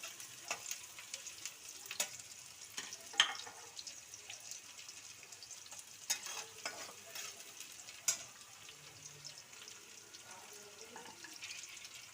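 Onions frying in oil in a home kitchen for chicken kosha, a low steady sizzle with occasional stirring clinks and scrapes, close and fairly quiet, no talking.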